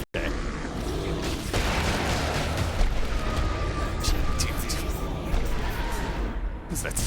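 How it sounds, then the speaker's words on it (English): A deep rumbling explosion booms in a professional Dota 2 match, sustained and loud across the stretch, with commentators talking over it. "What was that sound? That was an explosion."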